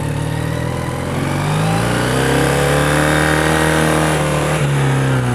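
Engine of a 1984 Honda CB400 cafe racer motorcycle while riding over rough ground, a steady loud mid-pitched drone that rises slightly in pitch partway through, continuous with no talking.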